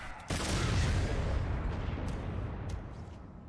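A bomb attached by Nero in Devil May Cry 5 is set off by a Blue Rose shot, bursting into a loud, dense blast that rumbles and decays slowly over a few seconds.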